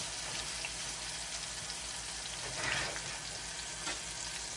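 Mushrooms fry in a pan on the stove with a steady, close crackling sizzle that carries on unbroken, with a few brief stirring clatters and no one talking.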